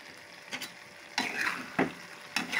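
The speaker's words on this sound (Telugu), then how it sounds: "కొబ్బరి ఇలా వేసుకొని కలిపేసుకోండి మొత్తం అంతాను" A spoon stirs raw banana curry with grated coconut in a pan, a soft frying hiss with a few scraping strokes against the metal, close and fairly quiet.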